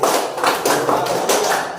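A class claps together in a counted clapping game, with several loud, close bursts of hand claps in quick groups and short pauses between them.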